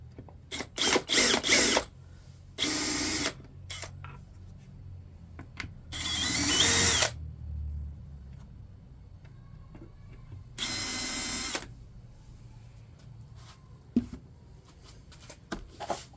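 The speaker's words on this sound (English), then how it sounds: "Now we're going to use our self-centered drill bit here. I'm just going to start drilling out" A power drill with a self-centering bit whirs in several short bursts, each a second or so long, with pauses and light clattering of tools between them.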